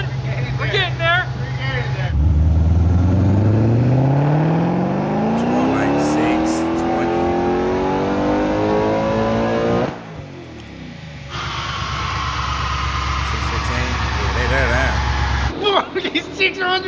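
Stock Hellcat V8 swapped into a Nissan 350z revving hard on a dyno, a loud engine climbing steadily in pitch through a long pull, dropping off, then holding a deep roar, with voices talking over it.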